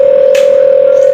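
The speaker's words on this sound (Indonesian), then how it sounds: "telepon euy" A phone gives one loud, steady electronic ring tone held for just over a second, close and alone with no speech.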